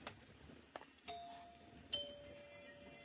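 A two-tone doorbell chime rings twice, each ding-dong tone lingering and fading over a faint, quiet room hiss.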